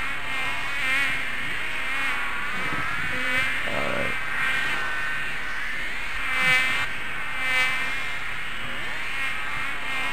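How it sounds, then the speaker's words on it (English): A mosquito in a VR video game buzzes continuously and close, a thin steady whine with slight wavering pitch throughout. "But I'm a mosquito."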